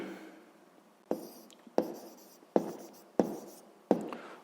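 A pen writes by hand on paper during a sixth-grade maths exercise, five distinct scratchy strokes in an even rhythm, each a short burst that fades, with a quiet room behind.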